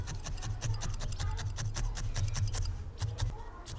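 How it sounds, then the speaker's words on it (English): Felting needle repeatedly stabbing into wool while shaping a small whale hair clip, a quick steady rhythm of soft scratchy jabs close up, with no talking. "I'm just going to felt into the area where I've created that little divot"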